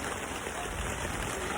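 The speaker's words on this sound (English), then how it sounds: "Right now it's raining." Rain falls steadily during a thunderstorm on a camping trip, an even, continuous hiss of drops, close and fairly loud with no break and no talk.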